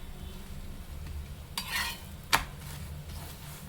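A wheat flour paratha fries in ghee on a pan over high flame, a soft continuous sizzle broken by a couple of short scraping strokes from a ladle pressing it down.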